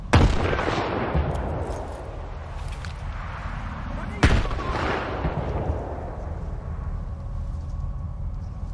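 Two sharp explosive blasts in the shooter game Stalker 2, one at the start and a second about midway, each followed by a long rumbling decay with scattered gunfire around them.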